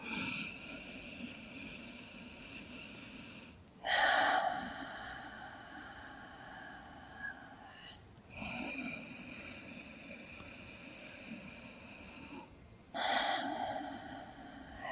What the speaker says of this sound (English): A few nice breaths like that.